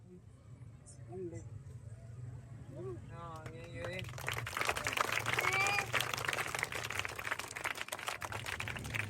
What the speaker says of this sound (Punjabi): ਮਿਹਰਬਾਨੀ ਸਭ ਤੁਸੀਂ ਤਾੜੀ ਮਾਰੀ